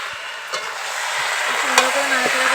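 Chicken curry is stirred in a pan after the lid comes off. A bright, hissing sizzle runs steadily throughout, with a few sharp spoon taps and scrapes close by.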